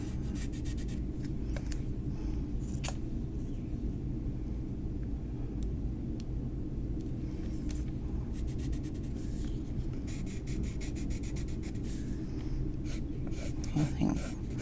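A pen or pencil draws a hexagon on paper as a template for a hexagonal cane, giving a continuous close scratching and rubbing over a low background rumble.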